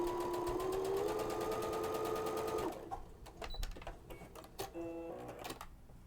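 A sewing machine runs a straight stitch with an edge stitch foot, giving a fast, steady mechanical whir for about two and a half seconds. It then stops and gives way to a few quiet clicks and one short burst of stitching, all close and fairly soft.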